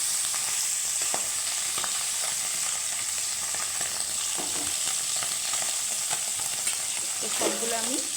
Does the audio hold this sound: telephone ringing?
no